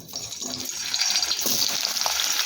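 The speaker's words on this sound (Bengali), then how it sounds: "এবার ওই তেলেই আলুগুলোকেও ভেজে নেব" Potatoes frying in hot oil, a steady bright sizzle and crackle with occasional stirring, close and continuous, with no talk.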